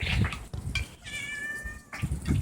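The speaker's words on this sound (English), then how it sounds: "Meow." A cat meows once, a clear drawn-out tonal cry, set between short bursts of nearby rustling and handling noise.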